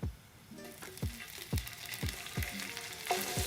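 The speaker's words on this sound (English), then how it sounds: "get that garlic and chili paste moving around in the oil. We'll cook this for a minute." Garlic and Calabrian chili paste sizzle in oil, with a steady frying hiss broken by rhythmic scraping strokes of a utensil against the pan roughly every half second.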